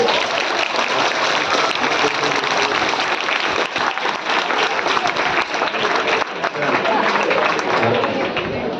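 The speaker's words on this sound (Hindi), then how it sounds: "एक बार ताली बजाइए जोर से।" An audience at a talk in Prayagraj breaks into loud, sustained applause, steady dense clapping throughout from a large crowd close by.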